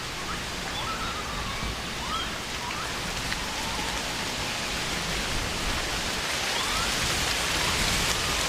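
Steady rain falls throughout, a dense, even hiss of drops on surfaces with no break, close and constant.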